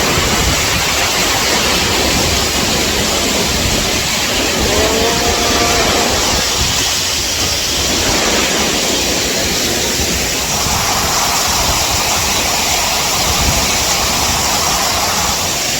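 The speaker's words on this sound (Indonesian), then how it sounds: "kita udah ada di air terjun. Ini air terjunnya guys." A continuous loud roar of rushing, falling water at Curug Payung waterfall in Indonesia, broadband and unbroken throughout, like standing close to the falls.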